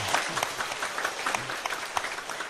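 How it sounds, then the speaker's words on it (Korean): A church congregation at a Korean Methodist Sunday service claps warmly for the choir, an even, moderately loud patter of many hands with no voices over it. "우리 한 번 더 뜨겁게 박수해 주시기 바랍니다"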